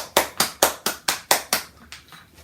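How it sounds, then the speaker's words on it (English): An audience at a steel pan performance on a stage show claps for the player: about eight sharp, evenly spaced claps, loud at first and then fading away, with no one speaking. "give a round of applause to the man and the pan, ladies and gentlemen"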